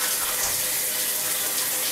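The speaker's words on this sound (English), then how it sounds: "Then you're gonna switch it over from bath time to shower time." Steady water streaming from a shower after switching over from the bath tap, a constant broadband hiss with no breaks, fairly loud and alone.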